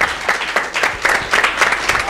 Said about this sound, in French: On applaudit très fort Guillaume.